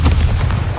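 A single short, heavy boom from the Bombarda blasting spell in Hogwarts Legacy, a close, loud low-pitched burst that fades almost at once.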